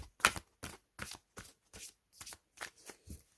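Tarot and astrology cards are shuffled by hand in about nine crisp, evenly spaced riffling bursts, close and quiet, with no talking.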